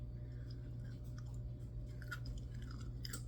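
Crunchy air-fried French fry being chewed up close, soft repeated crunching bites over a low steady kitchen hum, faint and quiet.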